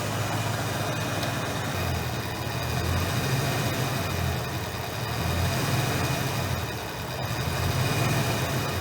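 Fox Body Ford Mustang 5.0 V8 engine running after being fired up, a steady low idle rumble with slight swells in level, close and continuous with no talking.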